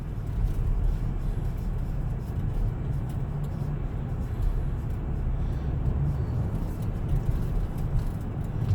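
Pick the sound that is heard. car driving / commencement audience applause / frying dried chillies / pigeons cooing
car driving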